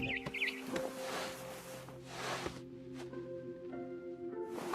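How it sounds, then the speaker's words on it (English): Barn swallow chirping outside a window in What Remains of Edith Finch, brief high calls and twitters scattered over a soft tonal game backdrop, faint and alone. "Then I heard chirping outside my window. It was a barn swallow going back to her nest."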